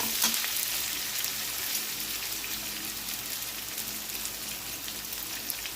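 Curry leaves fry in hot oil in a pan for mango fish curry, giving a dense, continuous crackling sizzle up close, with a sharper spit near the start.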